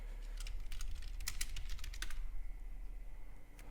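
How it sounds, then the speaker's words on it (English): Rapid keystrokes clatter on a computer keyboard in an irregular burst, then fade to near quiet with one last tap, over a low steady hum. "yes, you do hear me typing"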